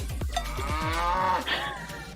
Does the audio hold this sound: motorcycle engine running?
no